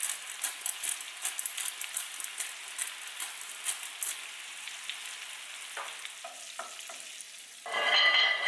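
Shrimp seasoned with pepper sizzle steadily in a hot pan alongside Cajun butter garlic, with a constant close frying hiss, a few soft stirring scrapes near the end and a louder burst of sizzle at the close.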